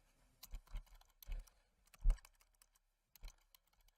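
Keys clack in short, uneven bursts as code is typed on a computer keyboard, each stroke crisp and close, with brief pauses between clusters and no voices.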